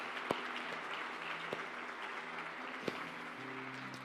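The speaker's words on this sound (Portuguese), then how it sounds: "gostaria de uma salva de palmas para ela" Church congregation at a family worship service giving a round of applause, a soft, distant, steady patter of clapping with a few sharper isolated claps standing out and faint background tones.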